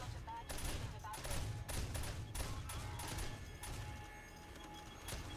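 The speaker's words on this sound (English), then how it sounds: "Now these are shotguns." Shotgun turrets fire during a horde night in 7 Days to Die: a dense run of rapid overlapping blasts, distant and muffled, rolling on without pause under a faint background din.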